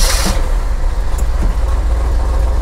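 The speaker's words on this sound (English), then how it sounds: "It has a Ford Edsel exhaust leak." A 1965 Ford F350 tow truck engine with an exhaust leak idles close by in a steady, loud, low rumble, with a brief hiss at the start.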